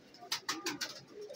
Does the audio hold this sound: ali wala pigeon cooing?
yes